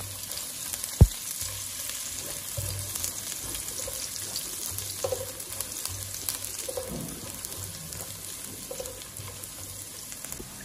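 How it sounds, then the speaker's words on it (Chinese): Garlic and fermented black beans fry in hot oil in a wok, a steady soft sizzle with a sharp clatter near the start and light stirring scrapes throughout. "油热之后，把大蒜和豆豉倒下去，"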